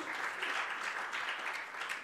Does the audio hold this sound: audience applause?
yes